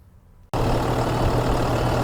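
A 2016 International 4300 flatbed truck engine kicks in abruptly after a brief quiet moment, then runs with a loud, steady, low diesel rumble close by.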